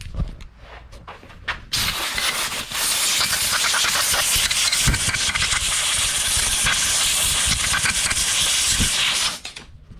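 A vapor blaster spraying through a Y nozzle, a loud continuous hiss that starts abruptly, holds steady for several seconds and then cuts off, with faint knocks underneath.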